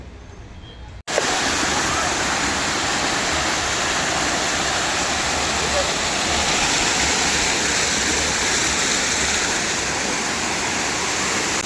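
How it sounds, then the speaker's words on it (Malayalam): Poolakkundu waterfall pours down in three streams, a loud, dense and unbroken roar of rushing water that starts abruptly after a brief quieter moment and holds steady up close. "ഇത് 3 ഭാഗത്തു കൂടിയാണ് ഈ വെള്ളം വന്നുകൊണ്ടിരിക്കുന്നത്."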